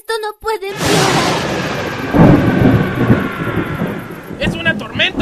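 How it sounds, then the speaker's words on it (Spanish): A thunderstorm with a loud, close rumbling thunderclap that rolls on for several seconds, while raised voices shout before and after it. "¡Es una tormenta!"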